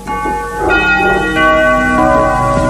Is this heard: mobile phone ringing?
no